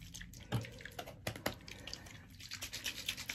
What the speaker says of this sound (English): Yeah, I'm going to do a bit more water.